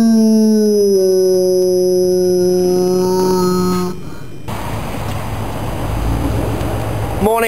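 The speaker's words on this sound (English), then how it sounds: "We'll just cross to the dog quickly to see what he thought of it." A dog howls at a motorcycle poker run, long sustained harmonic wails holding steady for about four seconds before breaking off into broadband outdoor noise and engine rumble.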